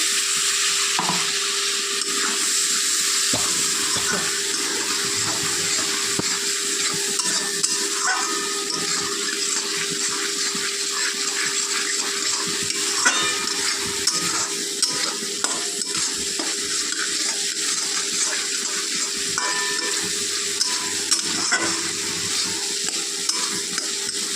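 Ground spices, including half a spoon of chili powder, fry in a pan with a splash of water for a radish ghonto, producing a continuous close sizzle broken by scattered spoon-stirring clinks and no speech.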